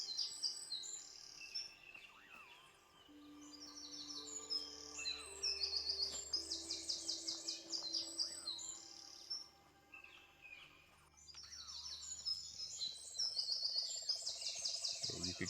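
Birds chirp and tweet in the Fallout 4 game world, with bright, quick calls coming in bursts and some pauses between them, over a soft ambient bed with low tones and a few mechanical hums.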